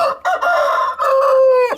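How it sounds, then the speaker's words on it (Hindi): A rooster, a farm bird offered for sale, gives one loud, close cock-a-doodle-doo in several harmonic segments, ending abruptly, with no other sound around it. "और ये एक मुर्गा भी फॉर सेल है"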